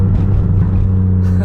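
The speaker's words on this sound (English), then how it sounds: "It sounds super good, super loud, but the tone is amazing." BMW M3/M4 fitted with an Active Autowerke catless downpipe and single mid-pipe exhaust, a loud, steady, deep engine drone held close up for a brief moment, with no talking.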